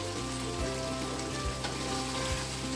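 Chicken pieces frying in hot oil in a pan for chicken sambal with chilli, a loud, steady sizzle with a few soft stirring bumps, close up and with no voices.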